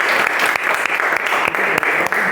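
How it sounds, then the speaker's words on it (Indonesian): A classroom audience claps for group 3 of student presenters in a steady, dense applause that fills the whole stretch, with a faint voice or two mixed in beneath the clapping. "Kita berikan aplaus untuk kelompok"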